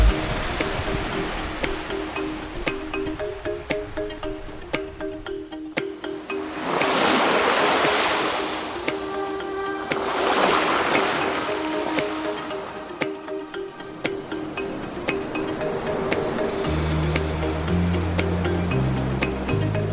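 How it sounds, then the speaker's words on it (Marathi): Sea waves at Marine Lines, Mumbai roll in as a steady broadband wash with two fuller surges, distant and continuous, while a faint tonal background runs underneath and brief music enters at the end. "समुद्राच्या लाटा"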